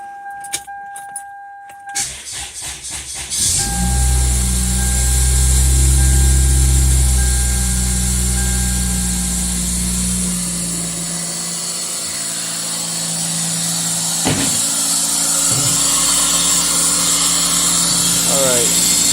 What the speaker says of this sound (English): So the problem was it idling at 1800 RPM when it's warm.